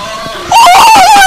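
A character in the horror game Paranoiac lets out a loud, high, wavering scream that starts abruptly after a quiet moment and carries on steadily.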